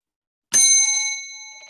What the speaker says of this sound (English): at the sound of the bell, the exercise will be over